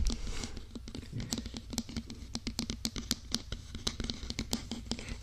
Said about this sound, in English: talking about some tapping